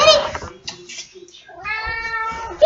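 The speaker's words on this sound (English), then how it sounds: "He likes to meow a lot." A pet cat meows close by, making a few drawn-out, tonal meows in quick succession, loud and clear with no other sound competing.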